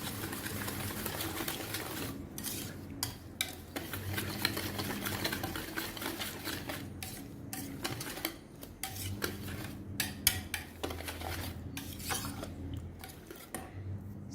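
A utensil stirs thick eggless, milk-free Christmas cake batter with nutmeg in a bowl, making continuous scraping and sloshing broken by frequent light clinks against the side, close and unaccompanied by speech.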